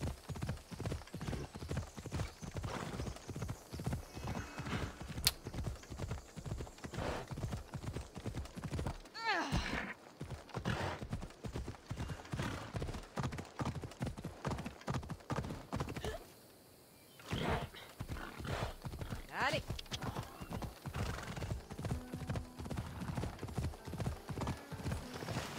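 A horse galloping in the video game Assassin's Creed Odyssey: fast, regular hoofbeats pound on for the whole stretch, briefly pausing once, with a whinny and someone talking over it.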